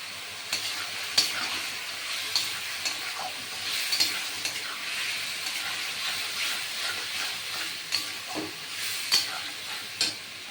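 Ground cumin fries with a loud, steady sizzle while a spoon periodically scrapes and stirs the pan.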